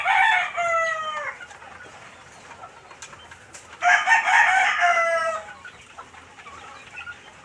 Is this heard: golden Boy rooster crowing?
yes